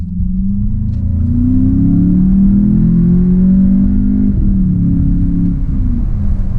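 A 2020 VW Jetta GLI engine drones and rumbles at steady, moderate revs, its pitch rising and falling slightly as it accelerates, heard from inside the cabin.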